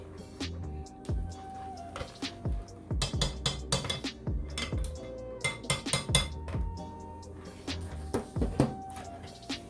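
A spatula scrapes the sides and bottom of a bowl of thick double fudge brownie batter, giving a run of irregular clinks and knocks against the bowl with no talking.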